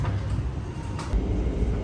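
Steady low rumble of the Gajayana passenger train in Indonesia rolling along the tracks after leaving Madiun station, heard from inside the carriage, with faint rattling and no talking.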